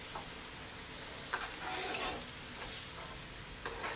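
Stuffed karela (bitter gourd) filled with keema frying in a pan, giving a steady, moderately quiet sizzle with a few brief stirring scrapes and clicks scattered through.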